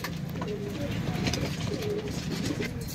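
Low, rolling coos from pigeons kept for sale repeat over a steady, crowded flock murmur, with faint nearby voices mixed underneath.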